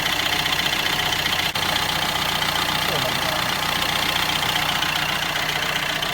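A 2012 Opel Astra 1.3 diesel engine idles steadily with a constant low rumble, close by and unbroken apart from one brief click.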